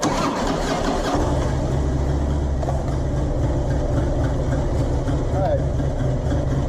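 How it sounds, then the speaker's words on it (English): A 2004 Harley motorcycle engine cranks and catches, then settles into a steady, loud idle, with someone talking over the low, throbbing rumble. "So now we're going to start the engine and let it"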